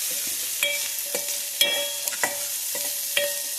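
Carrot, onion and tomato fry in a pan under a steady sizzle while a utensil stirs and taps against the metal in repeated, ringing strokes every half second or so.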